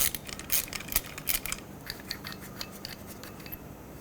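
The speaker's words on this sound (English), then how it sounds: "lock some locking pliers onto it and then ratchet the bolt out" Ratchet clicking as a pulley bolt is turned out while locking pliers hold the washer, on the serpentine belt flat idler pulley of a 2007-2009 Saturn Aura; quick close bursts of clicks come first, then lighter scattered ticks, with no talk.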